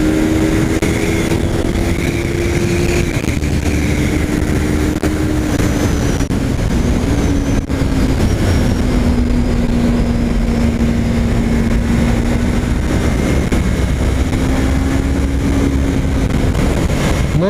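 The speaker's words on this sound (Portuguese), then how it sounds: "E o motorzinho dela fala alto, cara." A Yamaha R3 motorcycle rides the Interlagos track, its engine holding a steady, loud drone that rises and dips slightly in pitch for the whole stretch, with constant wind rush over the microphone.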